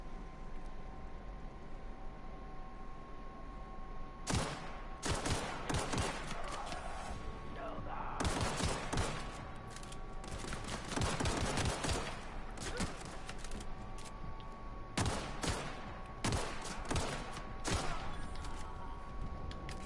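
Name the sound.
gunfire in the video game The Outer Worlds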